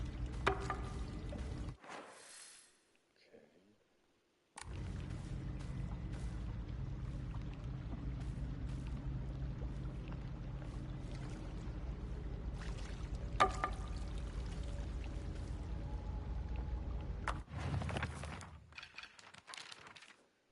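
Water pouring steadily in a video game puzzle at the Hermitage of Crimson Water, a continuous trickling stream that cuts out for a few seconds, resumes for a long stretch, then ends in short bursts.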